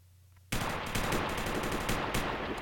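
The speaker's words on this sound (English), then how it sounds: "hopefully nobody could hear these gunshots." Rapid gunfire from a shooter video game built on CryEngine 5.4 erupts after a quiet half-second and keeps going as a loud, dense burst of overlapping shots for about two seconds.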